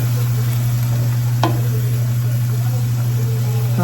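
A pan of food simmers on medium heat in a home kitchen, giving a soft continuous sizzle over a steady low hum, with one faint clink partway through.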